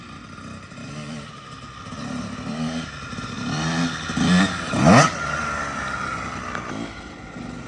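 A Kawasaki KX85 two-stroke dirt bike engine lugs at low RPM, a rough, uneven drone that swells in a couple of brief louder surges before settling back.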